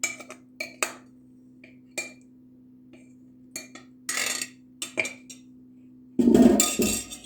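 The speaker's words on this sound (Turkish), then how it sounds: "Şöyle çatal yardımıyla iyi bir şekilde dağıtıyorum." A fork spreading cheese filling over yufka pastry in a baking tray makes scattered light metallic clinks and scrapes, irregular and close, ending in a louder rattling scrape.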